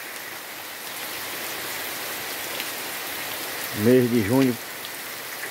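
Steady rain falls on a June day, a dense even hiss running the whole way through, while a voice speaks briefly near the end.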